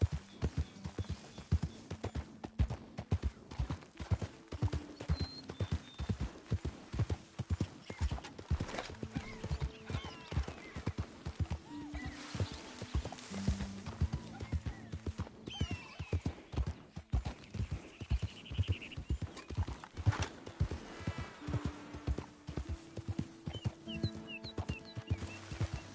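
Horse hooves galloping in Red Dead Redemption 2, a fast, steady clip-clop rhythm running throughout, with occasional snorts and whinnies over it.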